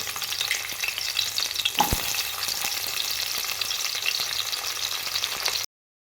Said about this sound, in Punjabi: ਜੀਰਾ ਬ੍ਰਾਊਨ ਹੋ ਚੁੱਕਾ ਹੁਣ ਵਿੱਚ ਪਾਵਾਂਗੇ ਪਿਆਜ਼